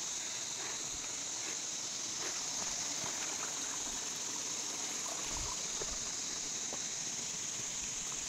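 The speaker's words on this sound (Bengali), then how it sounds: "এখান থেকে এই সুন্দর জলধারা বয়ে যাচ্ছে" A small forest stream flows with a soft, continuous babbling rush, steady and fairly quiet throughout, with no voices.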